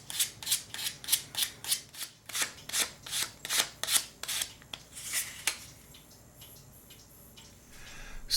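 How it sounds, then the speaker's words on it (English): Sandpaper rubs an ebony pen in a dozen quick, even back-and-forth strokes, a crisp close rasp that stops after a few seconds and gives way to quiet handling. "I'm just going to use some sandpaper here to remove it."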